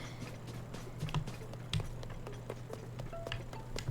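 Horse hooves clip-clop at a steady walking pace in Zelda: Tears of the Kingdom, faint and fairly close, with a low steady hum beneath and no talking.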